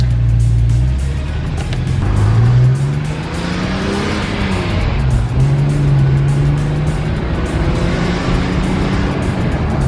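A BMW E46 M3 engine revs and accelerates away, pitch climbing through gear changes, loud and close with a rough, throaty tone.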